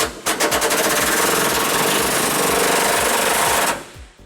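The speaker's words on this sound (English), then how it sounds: "we're going to loosen up the other bolt on our frame using an 18mm socket as well." A power tool, likely an impact wrench, hammers rapidly on an 18mm socket to loosen a frame bolt on a 2006 Ford Ranger during a trailer hitch installation, one loud burst lasting about three and a half seconds, close by.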